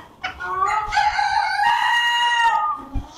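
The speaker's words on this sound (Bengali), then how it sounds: "এ কিন্তু আপনার অ্যাডাল্ট মুরগি, মাশাআল্লাহ সুন্দর কোয়ালিটি।" A rooster at a fancy chicken farm stocked with Sebright and Silkie breeds gives one long, loud crow near at hand, with quieter hen clucking at the start and end.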